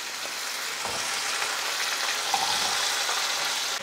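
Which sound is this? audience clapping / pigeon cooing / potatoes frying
potatoes frying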